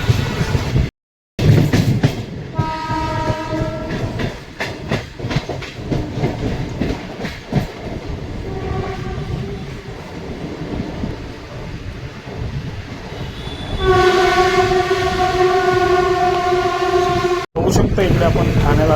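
A passenger train pulls into Thane station, with steady rolling rumble and clickety-clack, a strong tonal horn or whistle swelling near the end, and brief dropouts; people talk under the train noise.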